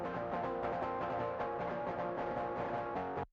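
An electric guitar DI signal runs through a green overdrive pedal, playing a short, dense, continuous overdriven phrase up close that cuts off abruptly after a few seconds.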